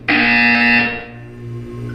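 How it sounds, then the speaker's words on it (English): A loud, harsh electronic buzzer from the Portal 2 video game sounds once for just under a second, then cuts to a low background hum. "When you hear the buzzer, look down at the floor."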